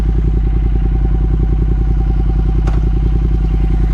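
A Triumph Speed Twin 1200 parallel twin idles after starting, a loud close steady rhythmic burble with an even pulse and one brief click partway through.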